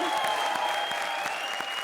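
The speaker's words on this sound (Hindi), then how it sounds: "चलो इनके लिए भी ताली बजाओ, जोरदार तालियों।" Studio audience applause on a comedy show stage, a steady wash of many hands clapping at even loudness with faint crowd murmur beneath, no voices standing out.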